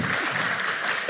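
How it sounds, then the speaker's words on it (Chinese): An audience claps warmly at a Tibetan Buddhist translation launch held by a Taiwan research society, a dense, even burst of applause lasting about a second with no talk over it. "首先我代表台湾国际藏传佛教研究会向各位热烈的欢迎和 鼓掌"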